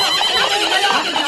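An out-of-control horse neighs and whinnies loudly and close, a continuous agitated cry that fills the moment without any talk over it.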